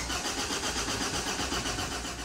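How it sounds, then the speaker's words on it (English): A diesel engine is turned over by its starter motor during a Delphi fuel pump pressure test, a steady, loud mechanical churning that runs continuously with no pauses or speech. "Always ensure that you operate the starter motor and the test at the same time."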